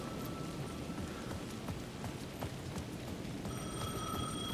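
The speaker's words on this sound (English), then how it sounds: "The payphone at the edge of the plaza was ringing again." In Alan Wake 2, a payphone at the edge of a plaza rings faintly and repeatedly through steady falling rain, with a higher ringing tone becoming clearer toward the end.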